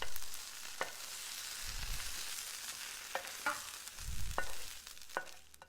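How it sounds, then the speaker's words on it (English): Cooked potatoes are mixed into egg mixture for a Spanish omelette, with a constant hiss under repeated light scrapes and a couple of dull thumps, all without speech. "what we're going to do is we're going to add this potato mixture in with the BC egg mixture."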